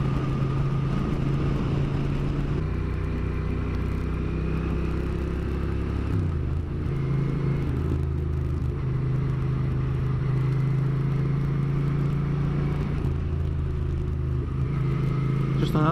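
Motorcycle riding along a road, a steady low engine rumble and drone with wind noise, continuous and close throughout with a brief dip in pitch midway.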